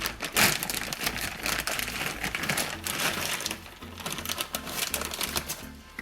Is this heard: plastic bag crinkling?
yes